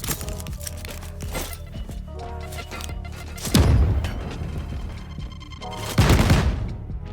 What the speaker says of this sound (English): tossing a nade while jamming out to some music without a literal care in the world as explosions are happening all around her